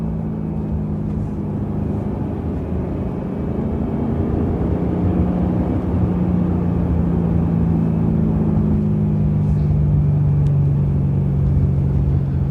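A BMW E92 M3 engine while driving, a deep, steady droning rumble with a gradually shifting pitch as the car cruises, loud and continuous with road noise beneath.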